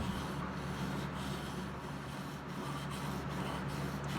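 A steel chisel is rubbed back and forth on an inexpensive sharpening stone, making a steady, continuous close-up rasping scrape with faint regular strokes throughout.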